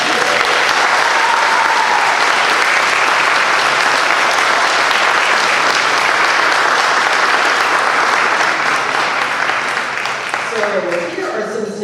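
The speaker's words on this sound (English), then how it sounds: "We can applaud" Sustained, loud audience applause at the 2024 William W. Ambler Award ceremony honoring student athletes, a dense wash of clapping that holds steady for nearly twelve seconds before a voice begins speaking near the end.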